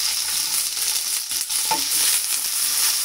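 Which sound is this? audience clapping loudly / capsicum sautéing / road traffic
capsicum sautéing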